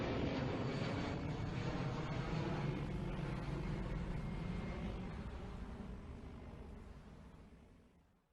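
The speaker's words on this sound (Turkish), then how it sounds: "Sesinden tanıdınız mı bu aracımızı? Evet evet, bu bir uçak." An airplane's engine roars loudly and steadily, then gradually fades away over several seconds as the aircraft recedes, with no talking.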